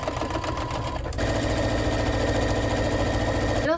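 A sewing machine runs steadily while stitching grid lines across a quilted laptop case, its close motor whirring in a fast, even rattle that picks up slightly after the first second and runs without pause.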